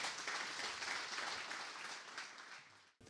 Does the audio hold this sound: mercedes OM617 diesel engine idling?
no